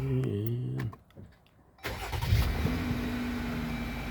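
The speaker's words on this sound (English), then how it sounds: "Let's see if this thing cranks." A Jeep Wrangler, whose auxiliary battery drains the main battery and alternator, cranks briefly with a whirring starter, falls quiet for a moment, then the engine catches and settles into a steady, close idle.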